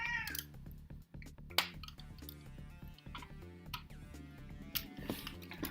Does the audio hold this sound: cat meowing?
yes